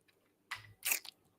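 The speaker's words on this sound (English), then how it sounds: "Sorry, I'm chewing." Someone bites and chews salami and Roma tomatoes, two or three brief wet crunching bites close to the microphone in an otherwise quiet room.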